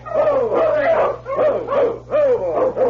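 A sled dog team on a Yukon trail barks and yips in short repeated bursts, close and lively, as a sound effect in an old-time radio adventure drama.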